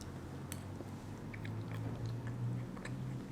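Close, wet chewing of a moist dessert eaten alongside coffee, soft squishy bites and mouth sounds over a faint low hum.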